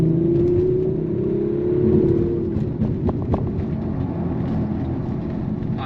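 A 2019 Audi RS5 Sportback engine on a back road, a rising rev that eases off after about two seconds into a lower, rumbling drone held steady near the listener.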